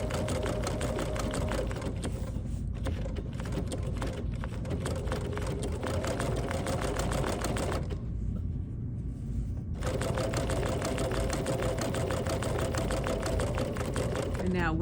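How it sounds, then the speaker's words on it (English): A sewing machine stitches around a corner of quilting fabric, giving a steady, close mechanical whir with a short pause partway through before it resumes. "let's have a look here as I stitch around the corner"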